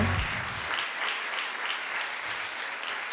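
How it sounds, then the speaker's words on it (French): An audience at a Limoges fashion show applauds in a steady, even wash of many hands clapping, moderately distant and sustained without pause, with a low thump near the start. "Sous vos applaudissements, mais quelle star!"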